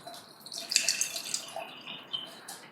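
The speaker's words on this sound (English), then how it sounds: "I'm just going to stand up to sieve our cabbage juice into our glass" Cabbage juice trickling through a sieve into a glass, a soft, close splashing pour with small drips that swells and fades over a couple of seconds, with no talking.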